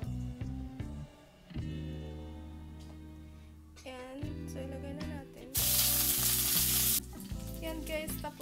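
Vienna sausages fry in a pan for a Filipino breakfast, giving a steady sizzle and crackle that runs through the whole stretch alongside layered tonal background music, with a brief louder burst of hissing spray near the middle.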